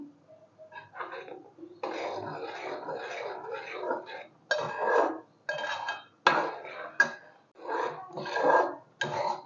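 Mango pulp and sugar being stirred in a pot with a spoon, heard as nearby clanking and scraping in uneven bursts with brief pauses.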